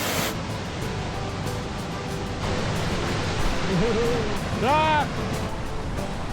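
Steady broadband roar of a waterfall about 100 metres off a trail in remote wilderness, rushing continuously throughout, with brief exclamations and a voice rising over the water.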